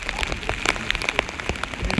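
Rain falling during a trek to Visapur fort, heard as a close, dense patter of drops striking a surface, with no voices.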